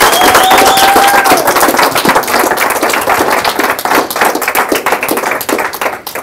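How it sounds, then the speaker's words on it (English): A group claps loudly for a speaker at a OneLife money event, brisk, dense clapping close by that keeps going strongly and slowly thins toward the end. "Give him a big hand."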